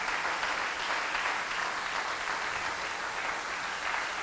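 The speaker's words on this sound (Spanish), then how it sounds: "Den un aplauso al Señor." Steady, dense applause from a church congregation fills the whole stretch, loud and continuous with no voices breaking through.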